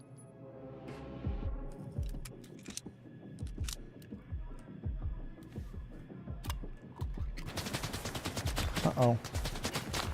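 Gunfire in S.T.A.L.K.E.R. 2, with several sharp shots spread across the stretch and a faster burst near the end, mixed with other game sounds while someone speaks briefly.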